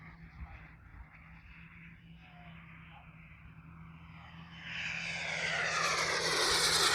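A giant radio-controlled scale T-38 Talon jet model in flight, its engine roar faint and distant at first, then swelling loud as it comes overhead and passes close, with no talking.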